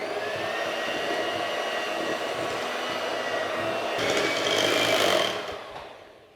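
An electric mixer whirs steadily through cake batter of self-raising flour and lemon zest for a lemon drizzle loaf. The motor swells slightly louder near the end, then winds down and fades.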